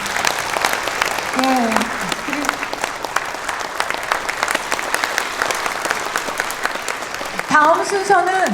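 A crowd at a book launch celebration breaks into sustained applause, a dense, steady patter of many hands filling the room throughout, while a voice speaks over it briefly near the start and again at the end.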